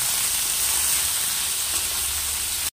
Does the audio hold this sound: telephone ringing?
no